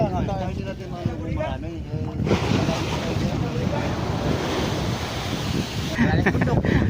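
A new boat out on the Pacific Ocean, with a steady wash of waves and wind buffeting the microphone throughout, loud and close, while someone talks over it at the start.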